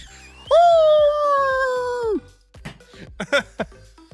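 People vocally imitate a heap of dogs, with one long loud howl-like cry followed by a flurry of shorter growls and yelps, close and boisterous.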